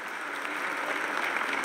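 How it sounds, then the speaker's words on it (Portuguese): Applause in the Bahia Legislative Assembly chamber, a steady wash of many hands clapping at moderate distance, even and unbroken for its short length. "Quero começar pedindo uma salva de palmas para a Assembleia Legislativa da Bahia"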